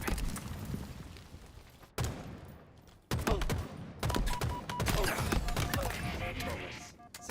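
Bursts of rapid gunfire from a Halo competitive scrim match, with dense automatic fire and sharp shots cutting in and out across several seconds, loud and close, with a few thuds and game effects between volleys.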